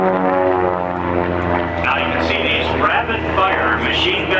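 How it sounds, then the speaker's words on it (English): An aerobatic propeller airplane with a Lycoming engine flies a loop at a Reno air show, its loud droning engine note shifting pitch as it climbs and turns, with a commentator talking over it. "he'll fly across the top in knife-edge flight, relying on aerodynamics and the Manitowoc Lycoming engine to provide him power across the top"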